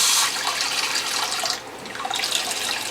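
Water pours steadily into a cup or bottle while measuring juicer output, a continuous splashing stream with a brief dip midway, close and fairly loud, no talk.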